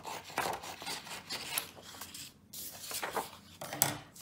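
Scissors cutting along a pencil line on paper for a cylinder drawing, giving close, soft crisp snips and rasping paper rustle in an uneven rhythm, with no voices.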